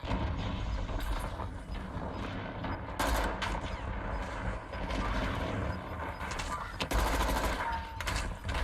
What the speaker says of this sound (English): Bro, I'm getting sniped.